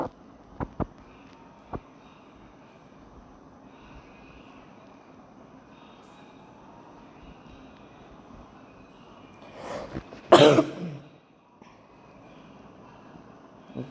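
A single harsh cough from a person who is unwell bursts out near the end, loud and close, over a low steady background hum with a few faint clicks early on.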